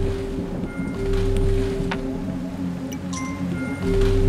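A boat moving across water in the Kingdom: New Lands video game, a steady watery wash and low rumble with soft sloshing, continuous and moderately loud without talking.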